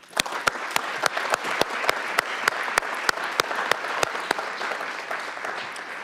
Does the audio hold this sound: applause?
yes